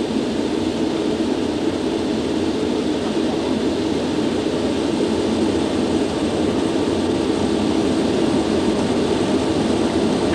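Concorde's jet engines run at takeoff power, a loud, continuous, broadband roar that stays steady and alone throughout.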